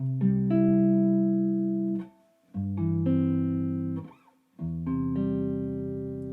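Three ringing guitar chords in open C tuning, each strummed and left to sustain for about two seconds, with brief gaps between them.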